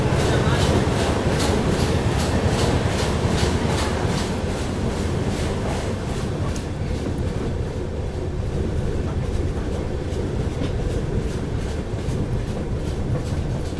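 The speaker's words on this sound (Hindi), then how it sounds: "फिलहाल अपनी पाटलिपुत्र सुपरफास्ट एक्सप्रेस यहाँ पर स्किप कर रही है कटनी साउथ को।" The Patliputra Superfast Express, train 12141 from Mumbai LTT, rolls through Katni South station without stopping, a loud continuous rumble with rhythmic clickety-clack of wheels over rail joints heard from on board.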